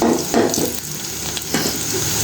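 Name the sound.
onion and garlic frying in a pan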